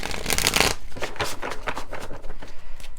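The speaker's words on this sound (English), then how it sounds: "I'm just going to shuffle them." A deck of tarot cards shuffled by hand close up, a dense riffling flutter opening loudly and then continuing in quicker, quieter rhythmic bursts of sliding cards.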